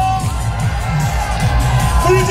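Team of spectators at an autumn sports day shouting and cheering together in a loud, sustained burst with a continuous crowd roar.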